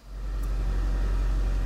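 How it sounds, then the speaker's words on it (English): A car engine idles steadily right after being started, a loud, constant low rumble filling the whole stretch with no talking. "While I was waiting, I went ahead and started the car"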